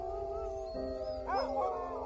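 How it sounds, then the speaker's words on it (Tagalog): A dog howls in long, wavering, rising tones, fairly near and clear, with no one talking over it. "nang marinig naming umaalulong ang aso nila"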